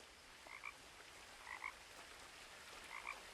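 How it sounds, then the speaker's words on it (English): Frogs croak in the quiet game world of What Remains of Edith Finch: three soft, evenly spaced pairs of croaks over a faint ambient hiss, sounding somewhat distant. "I can hear frogs."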